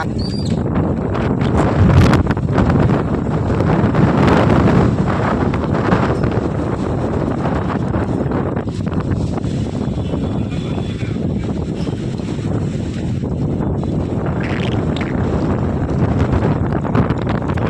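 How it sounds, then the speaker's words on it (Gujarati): Powerful wind roars and buffets the microphone continuously, loud and gusty, with rattling and clattering debris heard close by throughout. "ખૂબ જ ભયંકર પવન આવી રહ્યો હતો"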